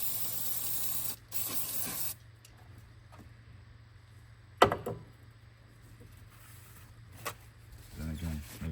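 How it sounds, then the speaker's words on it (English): Brake cleaner sprayed over oil spills on a BMW 320d B47 diesel engine during an oil change, heard as a few hissing aerosol bursts of differing length separated by quiet pauses, with some brief knocks. "you can grab some brake cleaner. As you can see, you've got some spills here and there, so you can just spray it all over."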